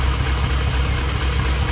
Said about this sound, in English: idle's pretty smooth. At least it sounds smooth up here, but the exhaust note says otherwise